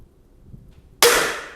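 A Ravin R18 crossbow fires an arrow with one sharp, loud, close pop after a near-silent lead-in. A brief bright decay follows the shot, and nobody speaks.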